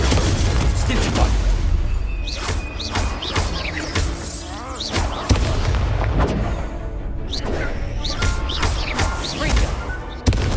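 Spell casting in the Hogwarts Legacy video game: repeated booming impacts, crashes and crackling bursts stack up in quick succession over a dense, loud background, with no pause between the blasts.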